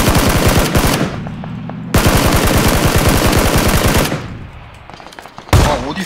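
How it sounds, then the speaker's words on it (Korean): Loud, close automatic gunfire in PUBG, two long rapid bursts with a short gap between them, then quieter distant shots and one sharp blast near the end. "나 총알 날라와."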